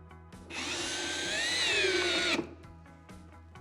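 A power drill fastens old chairs onto a garden swing frame, giving one steady, close whine that runs for about two seconds with no talk over it.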